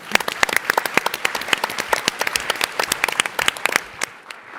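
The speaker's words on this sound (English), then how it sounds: "Give her a round of applause." Audience applause after a startup pitch at a tech conference competition, loud dense clapping from a large crowd that fades out near the end.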